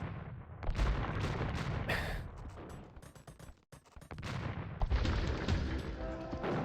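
Bombard cannon and trebuchet siege fire in Age of Empires II, heavy booming blasts and crashes repeating densely throughout, loud and continuous with a brief dip midway.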